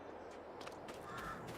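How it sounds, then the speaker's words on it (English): Crows caw in a Farming Simulator farm scene, a few faint, distant calls over a quiet steady background. "I have birds up there."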